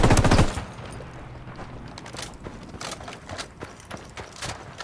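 Submachine gun fire in Ghost Recon Wildlands: a loud opening burst, then scattered sharp shots and short bursts at moderate distance through the rest, with no speech.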